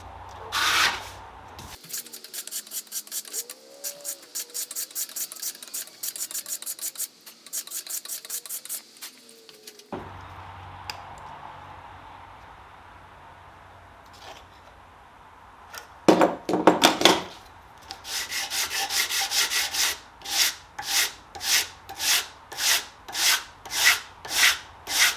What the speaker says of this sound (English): I should be able to correct that on the sandpaper here